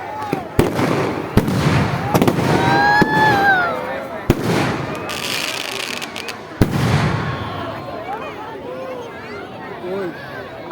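Outdoor fireworks display at a public event: sharp bangs and crackling bursts with whistling rockets rising, several loud reports spaced through the scene, under crowd chatter and excited voices nearby.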